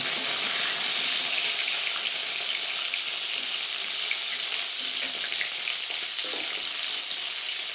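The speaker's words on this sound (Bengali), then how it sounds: "পটলগুলো সব আমি ভালো করে ভেজে নেব" Pointed gourds (potol) fry in hot oil in a pan, giving a steady, dense, close sizzle that runs unbroken throughout with no voices.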